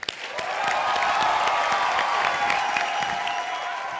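Audience applause rises quickly and holds as a dense, steady wash of clapping for several seconds, welcoming performers onto a comedy show stage, then begins to thin at the end.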